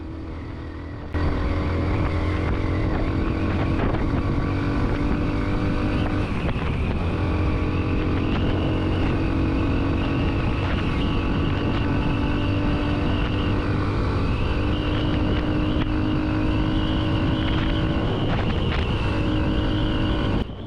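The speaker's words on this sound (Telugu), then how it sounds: "థ్రోటిల్ ఇచ్చిన ప్రతిసారి ఇంజిన్ యొక్క రేవ్ కౌంట్ నేను గమనిస్తూనే ఉన్నాను" An air-cooled Hero Xtreme 125R motorcycle engine, rated at 11.4 bhp, drones loudly and continuously while riding, its pitch rising and falling with repeated throttle blips, accompanied by wind rush on the microphone.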